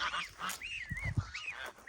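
Several geese honk nearby in a rapid back-and-forth, harsh nasal calls rising and falling over a quiet background, adult geese in a garden calling to goslings.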